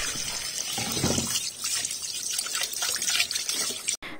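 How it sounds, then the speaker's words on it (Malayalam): Tap water runs and splashes as seer fish for biryani is washed in a sink, a close, uneven gush with dribbles and brief drops before cutting off abruptly at the end. "ഫിഷ് നമുക്ക് ആദ്യം തന്നെ ഇതുപോലെ നല്ലോണം കഴുകി വെള്ളം പോകാൻ വേണ്ടി വെക്കാം"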